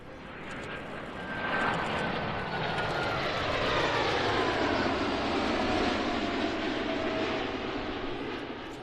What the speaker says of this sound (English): United demonstrated a 777-300ER